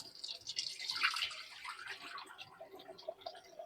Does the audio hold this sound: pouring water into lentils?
yes